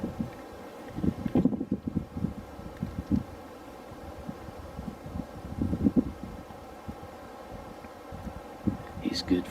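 Wind gusts buffet an open outdoor spot on public land in Colorado on a breezy morning, a constant rumbling roar with stronger puffs, while faint low voices murmur underneath.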